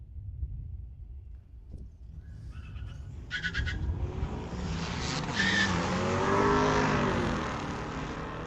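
A street-legal car makes a drag racing pass at Mission Raceway Park. The engine noise starts faint and distant, then swells into a broad, rising roar, with a brief squealing tone partway through.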